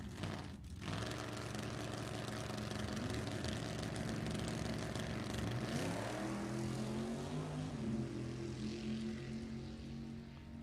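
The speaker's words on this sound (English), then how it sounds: "The front engine dragster, small block 350." A front-engine dragster with a small-block 350 races at a drag strip event, its engine a loud, steady roar throughout that climbs in pitch about midway as it revs harder.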